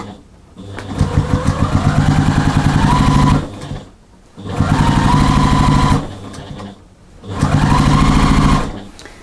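Sewing machine stitching a quarter-inch seam along the edge of a mini quilt, running in three long, loud, steady bursts with short pauses between them.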